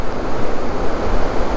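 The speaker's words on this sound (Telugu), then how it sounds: "అబ్బాబ్బా ఎంత హైట్ ఎగురుతున్నాయి వాటర్." Surging water on the way to Srisailam crashes and sprays high, a loud, roaring wash with wind buffeting the microphone, constant and close throughout.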